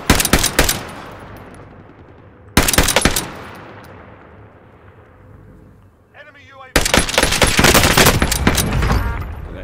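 Gunfire in the Call of Duty Warzone video game: sharp bursts of rapid shots at the start, another burst after a pause, then a loud sustained volley near the end, with quieter decaying gaps between.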